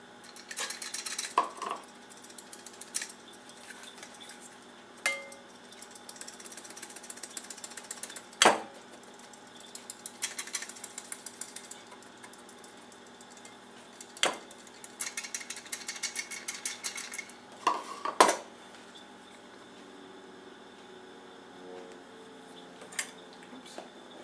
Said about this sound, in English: So put it in your sifter.